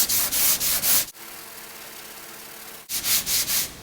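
Auto body filler is hand-sanded with 80 grit sandpaper in quick, rhythmic scraping strokes, which pause for a couple of seconds in quieter background hum and then resume with the same brisk back-and-forth rasp.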